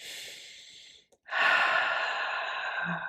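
Deep cleansing yoga breath: a soft breathy exhale fades out, a brief pause, then a long, strong airy inhale swells and holds, close and intimate with no talking.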